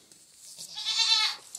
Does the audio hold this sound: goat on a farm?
yes